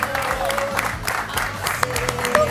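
A studio audience's applause welcomes Marcelo Tinelli onto a televised dinner-table talk show, dense rapid clapping running through the whole stretch with no voices on top.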